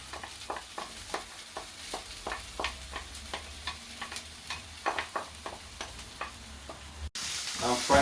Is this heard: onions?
yes